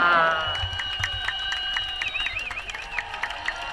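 Spectators lining the streets of Manchester's Thanksgiving road race cheer on runners, a steady crowd roar with bright tonal whistles and calls layered over it for the whole stretch.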